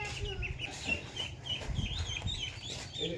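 Hens and a rooster clucking in short, scattered calls over a low background rumble, fairly soft and close.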